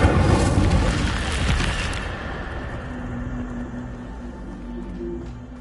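A fire spell is cast in Hogwarts Legacy, a loud burst with a booming roar at the start that decays into a sustained crackling rumble with a low tonal hum, no voices.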